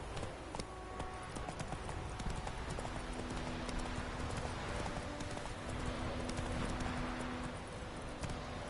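Horse hooves clip-clopping in The Witcher 3: Wild Hunt, a steady trotting rhythm heard close under game ambience and faint tonal music, with no talk over it.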